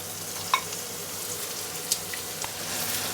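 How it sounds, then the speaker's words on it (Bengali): Onions hiss steadily in half a cup of hot oil in a pan while cooking for mutton rezala, a continuous close sizzle with a few sharp pops and spatters over about three seconds. "হাফ কাপ পরিমাণে তেল নিয়ে নিচ্ছে। পেঁয়াজ দিয়ে দিলাম।"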